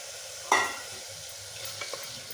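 Mutton dropped into hot tomato-onion masala for mutton soup, one sudden burst of sizzle that fades into a quieter simmering hiss, with a few faint stirring taps after.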